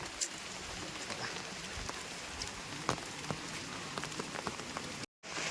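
Steady rain falls outdoors on surfaces at a Santal community worship site, a close, continuous patter with scattered louder drops and a brief dropout near the end.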